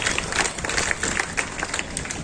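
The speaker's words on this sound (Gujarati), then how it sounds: "આપણે એને કહો પહેલા તાળીઓથી વધાવીએ" Scattered outdoor applause from a crowd at an inauguration of a railway crossing underpass, uneven claps of moderate loudness with some background bustle.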